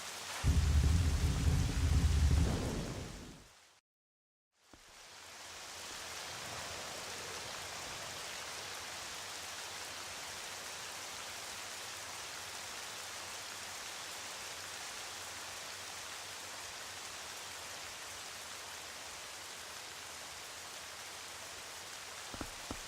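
In the video game Twilight Princess, thunder and rain storm over Hyrule Castle. A heavy rumbling roar cuts off into a brief hush, then a steady, even hiss of rainfall continues alone.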